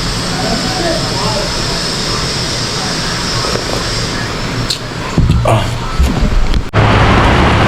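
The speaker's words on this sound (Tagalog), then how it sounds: "Yan, lakas ng ulan talaga." Heavy rain pours steadily in Bicol, a dense hiss filling the scene throughout, with a few louder clatters and knocks near the end.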